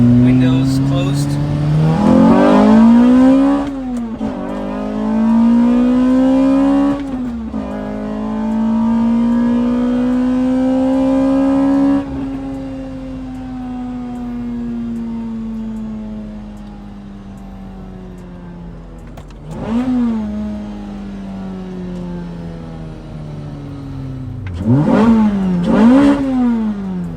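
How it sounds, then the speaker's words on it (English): A Lotus Elise with a 2ZZ-GE engine, custom cold air intake and Sonic Fury exhaust, revved from inside the car with the windows closed; several loud rising and falling revs and a long held high rev, with a person talking between them. "I think the intake sounds amazing"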